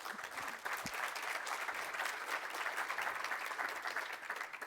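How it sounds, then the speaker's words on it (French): A conference audience at a sustainable mobility forum applauds its panelists, a steady, fairly faint patter of clapping heard from a distance for several seconds. "Vous pouvez les applaudir."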